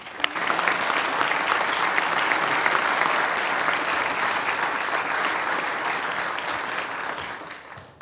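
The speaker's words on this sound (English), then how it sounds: "Give them all a round of applause." A council meeting audience in Smyrna, Georgia applauds young athletes and their coaches, a dense, even burst of clapping that holds steady before tapering off near the end.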